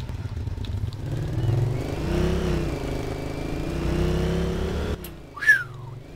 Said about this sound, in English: I've got a quad bike.